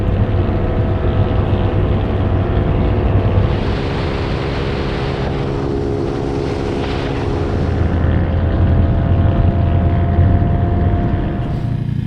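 A small motorbike engine runs steadily for the whole stretch, a loud continuous drone with a slight shift in pitch partway through and no voices.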